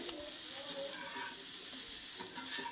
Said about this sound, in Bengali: একটা ফ্রাই প্যানের মধ্যে বাটার দিয়ে দিয়েছি, তারপর ব্রোকলিগুলোকে দিয়ে এভাবে ভেজে নিচ্ছি।